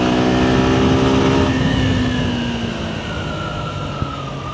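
A Suzuki Gixxer SF 150 motorcycle engine revs at full throttle, loud and close, a steady droning whine whose pitch slides gradually down as it holds the revs.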